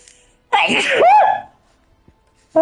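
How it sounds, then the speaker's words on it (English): One loud, close human sneeze with a quick breathy wind-up and a sharp burst, then near silence before a voice starts at the very end. "I'm gonna sneeze again here in a minute."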